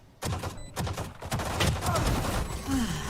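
Rapid bursts of gunfire crackle through a competitive shooter video game match, overlapping shots in quick flurries under an excited commentator's voice.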